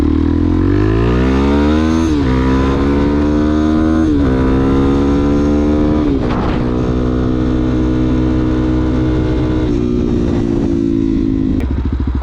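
A Suzuki DRZ motorcycle with a full aftermarket exhaust revs hard and loud up close, in several rising throttle blips that settle into a sustained raspy drone, with no one speaking.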